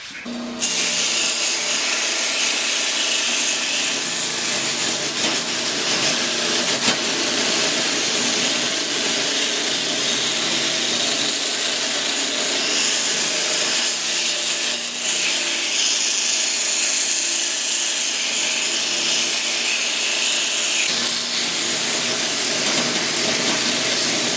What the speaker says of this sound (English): Okay, we got everything sanded and ready to go here.